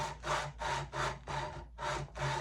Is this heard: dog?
no